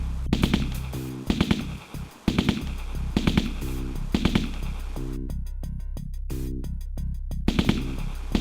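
Sustained held-trigger gunfire in the Aliens: A Comic Book Adventure game, rapid loud bursts rattling in quick succession over a steady low hum, with a brief pause midway before the firing resumes.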